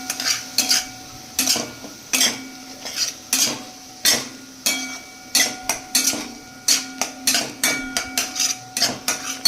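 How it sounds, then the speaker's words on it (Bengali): Spices and a pinch of salt and sugar scraped and stirred around a pan for a dried shidhol fish dish, with repeated sharp metallic scrapes of the utensil in an uneven rhythm, close and clear, with no talking. "এখন এটারে ভালো কইরা নাড়াইয়া মিক্স কইরা"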